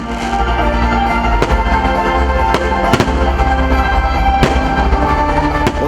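Fireworks pop and crackle continuously at an outdoor festival concert in Zakarpattia, Ukraine, with several sharp louder bangs standing out over a dense, noisy background.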